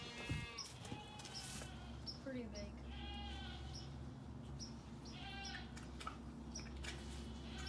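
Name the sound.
goats bleating on a farm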